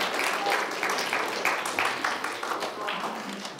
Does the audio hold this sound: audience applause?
yes